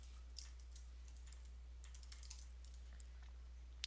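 Fast clicking of computer-keyboard keys, typed continuously while editing a Business Catalyst web template; faint, close, light keystrokes over a quiet low hum, with no voices.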